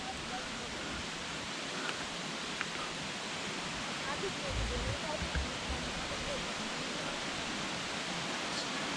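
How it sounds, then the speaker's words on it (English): The Schlossrinn waterfall in a Bavarian forest, a 50 meter free fall, roars as a steady broadband rush of falling water, constant and enveloping with no breaks. "Sound of water is really cool, amazing"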